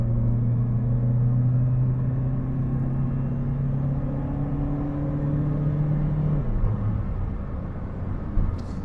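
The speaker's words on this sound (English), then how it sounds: "Let's give it the full 0 to 100. Oh, it changes early, even with my foot flat to the floor." Chrysler Neon with a 3-speed automatic gearbox accelerating flat out from 0 to 100 km/h, heard from inside: a steady droning engine note that rises, then drops at an early upshift, with no voices.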